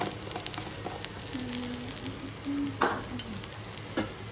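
Cumin seeds and garlic cloves roast in a pan for a spicy tomato and green chilli thecha, giving a soft, continuous sizzle with occasional light clicks and stirring scrapes, fairly quiet and without speech.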